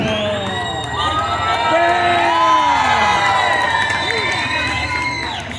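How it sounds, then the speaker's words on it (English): Crowd of children shouting and cheering at a live Deadpool story time show, loud overlapping high voices with whoops, sustained throughout and close, little clapping evident. "I know some of you are laughing and clapping"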